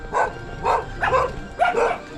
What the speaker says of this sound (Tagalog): May tindahan pero may aso.